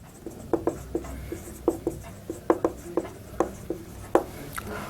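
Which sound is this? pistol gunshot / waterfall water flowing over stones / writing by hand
writing by hand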